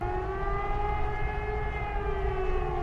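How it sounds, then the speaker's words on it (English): A steady, wailing factory preset tone from a Sonicware Liven Ambient Ø synthesizer, like a siren, layered with sustained harmonics that slowly bend in pitch over a low rumbling drone. "I took this factory sound, which sounds like a siren"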